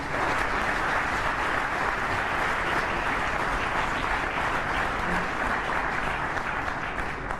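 A large conference audience applauds an inaugural speech at the Raisina Dialogue, dense, even clapping that holds steady and loud for the whole stretch with no voices.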